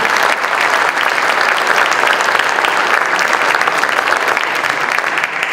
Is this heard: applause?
yes